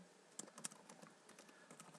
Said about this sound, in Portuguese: a tecla Tab aí do seu teclado para ir para o lado.